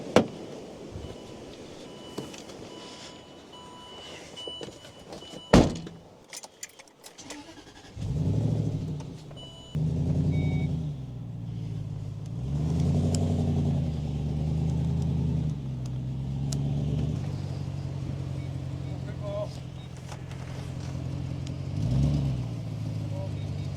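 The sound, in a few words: VW Beetle car being moved onto a trailer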